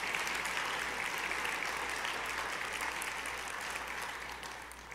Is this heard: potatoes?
no